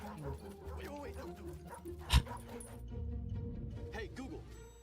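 Dogs bark, yip and whimper in a quiet, somewhat distant recording played back on screen, with a sharp thump midway and a person talking over part of it.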